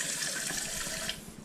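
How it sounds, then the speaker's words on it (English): A bidet nozzle runs its self-cleaning mode, giving a brief hissing spray of running water that sounds like a tap, close and steady before tailing off. "all you do is just lift the lever and you get the self-cleaning effect down here."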